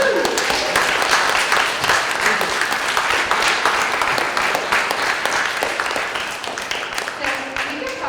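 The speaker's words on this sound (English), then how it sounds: "Let's do a round of applause." Steady, dense applause from an audience at a literary reading event with steampunk authors, loud and sustained throughout before tapering slightly toward the end.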